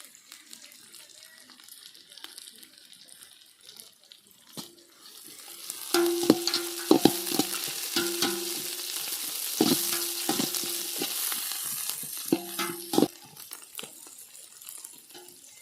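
Onions browning in a pan as mint and coriander go in, a faint sizzle that swells into louder frying with repeated metallic spatula scrapes and taps against the pan, close by, with someone speaking over parts of it.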